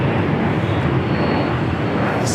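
Jet airliner roaring down a runway at LAX on takeoff, a loud, steady broadband engine rush that stays constant throughout.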